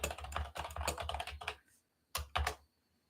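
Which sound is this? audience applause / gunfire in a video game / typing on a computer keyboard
typing on a computer keyboard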